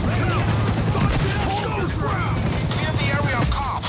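Dense gunfire in a heist shootout in the video game Payday 2, sustained rapid shots and booms under shouting voices, loud and continuous.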